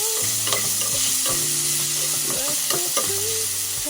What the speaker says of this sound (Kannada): ಆಲೂಗಡ್ಡೆ ಫ್ರೈ ಆಗಿದೆ